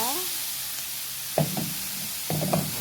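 Sponge gourd (patola) is sautéed in a pan, with a steady sizzle under two brief clanks of a utensil stirring against the pan. It is close and moderately loud.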